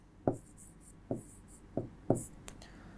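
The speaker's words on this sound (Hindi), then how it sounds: "तो अब हम इसको लिखेंगे" Chalk or marker tapping and scratching on a classroom board during a maths lesson on circles, four distinct strokes at irregular intervals, close and fairly quiet with faint squeaks between them.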